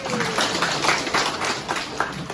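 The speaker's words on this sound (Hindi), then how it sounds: "एक बार तालियां हो जाए" Congregation applauding during a church sermon, a brisk burst of clapping across the room, fairly loud and even, with faint voices mixed in.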